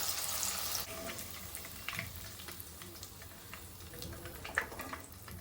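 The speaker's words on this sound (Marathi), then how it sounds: "त्याच तेलामध्ये मी मिरची तळून घेते" Green chillies frying in the oil left over from making onion bhaji, giving a faint, steady sizzle that fades slightly after the first second, with a few soft crackles and no talking.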